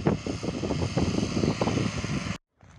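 A rotovator tills a winter vegetable garden on a windy day. Its engine chugs in rough, rapid pulses under gusty wind buffeting, then cuts off abruptly, leaving a brief near-silence.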